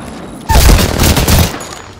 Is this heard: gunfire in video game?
yes